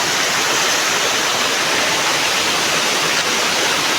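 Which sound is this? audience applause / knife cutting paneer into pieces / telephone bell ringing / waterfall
waterfall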